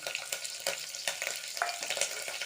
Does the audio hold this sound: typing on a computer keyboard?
no